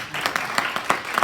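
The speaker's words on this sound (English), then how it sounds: "If you agree with your boy, clap your hands." A church congregation at the Act Out Summit claps their hands together in a short burst of several sharp, uneven claps that sound close and fairly loud.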